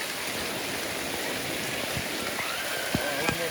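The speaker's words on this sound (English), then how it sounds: "Rain out there." Rain falls steadily outdoors during a rainy cookout in Broad Stone, Portland, Jamaica, making an even, dense hiss. A few faint knocks and taps sound near the end.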